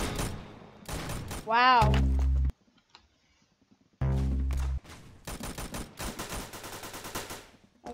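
Gunfire from a gold gun in the Roblox shooter Arsenal: loud bursts of rapid shots, a long sustained volley, then a pause before another burst and more scattered fire, with a brief voice heard.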